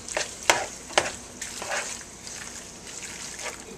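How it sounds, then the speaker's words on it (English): Fresh basil leaves tossed into a hot pan while cooking penne with chicken and basil pesto, giving a soft, steady sizzle with a few sharp clicks and stirring scrapes, close by and moderately quiet. "The leaves are going to get cooked in because with the heat of the pan."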